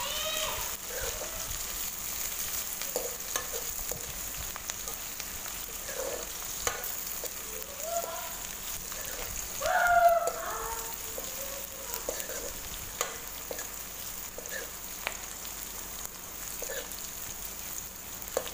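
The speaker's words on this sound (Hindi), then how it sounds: "और बस प्याज को थोड़ा सा ब्राउन होने देते हैं।" Finely sliced onions fry on a heater stove in a pan, giving a soft, steady sizzle with light crackles and one brief louder burst of spitting partway through.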